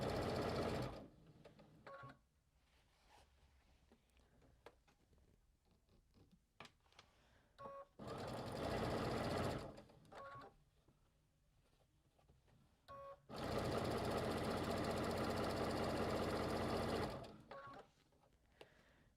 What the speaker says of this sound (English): Okay, so now I'm going to sew all the way down here.